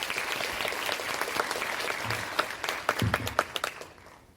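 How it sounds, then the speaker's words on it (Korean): An audience at a presentation on an apartment reconstruction project applauds, a scattered clapping that thickens into sharper individual claps and then fades out, moderately near and without speech. "큰 박수 부탁드리겠습니다."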